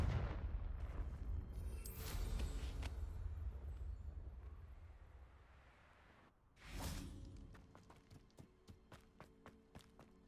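A Confringo fire spell explodes in Hogwarts Legacy, with a loud burst early on and a second sharp blast midway, followed by a rapid series of crackling impacts and footsteps.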